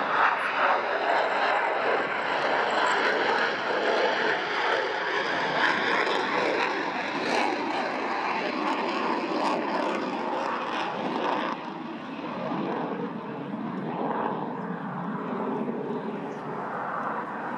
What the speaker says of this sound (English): It's here in a high-speed pass.